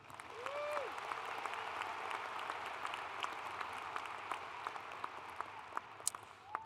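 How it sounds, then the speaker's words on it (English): Applause from a commencement audience for graduating students, a steady, moderately distant wash of clapping with a few crisp individual claps standing out, sustained throughout without speech. "Can I get a round of applause for them"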